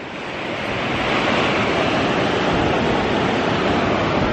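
Ocean waves rolling onto a beach as a storm approaches, a dense, continuous roar of surf that swells in over the first second and then holds steady and loud, with no voices.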